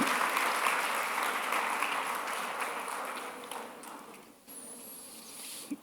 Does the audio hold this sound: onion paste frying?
no